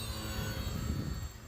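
An Arrows RC Bearcat model airplane cruising at half throttle on a 4S battery with a two-blade prop, giving a steady, fairly faint electric motor and propeller drone that holds even throughout.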